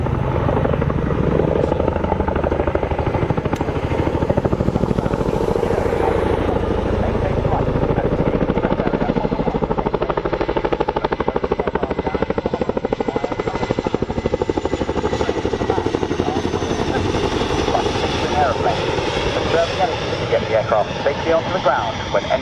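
A Chinook helicopter passes at the RAF Cosford air show, its loud, continuous rotor and engine roar filling the whole stretch while a voice talks over it.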